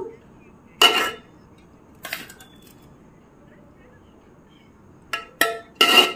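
Cooked rice layered over mutton, potatoes and eggs in a cooking pot, with a few sharp metallic clinks and scrapes of a utensil against the pot separated by quiet pauses.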